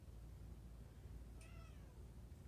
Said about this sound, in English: My kitty's crying.